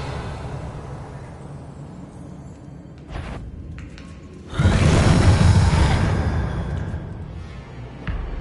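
A Revelio spell is cast in the Hogwarts Legacy video game, a sudden broad magical whoosh bursting out midway after a stretch of quiet ambience, then fading, with a short soft hit near the end.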